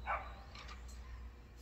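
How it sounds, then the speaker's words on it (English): A dog barks and yips while chasing a remote control car up and down a driveway, giving one sharp close bark at the start followed by a couple of fainter yips over steady low background rumble. "she's chasing it back and forth, barking at it"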